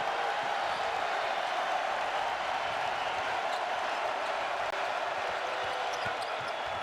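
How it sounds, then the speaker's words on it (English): Basketball arena crowd roaring during a Tennessee versus Ole Miss college game as the first half winds down, a loud, steady wash of cheering with the thump of a bouncing ball beneath it. "here comes the crowd"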